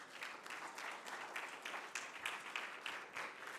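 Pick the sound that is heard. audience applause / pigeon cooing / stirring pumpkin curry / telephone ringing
audience applause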